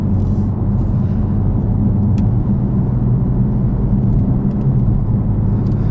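A 2017 BMW M4 Competition with a dual-clutch gearbox on the move, heard from inside as a loud, steady low engine drone and road rumble that holds without a break, with no talking.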